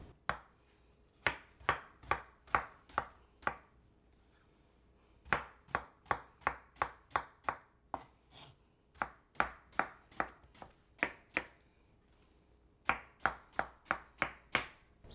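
A knife chops through watermelon on a cutting board in quick bursts of sharp, evenly spaced knocks, several runs separated by brief pauses, close and clear with no voices.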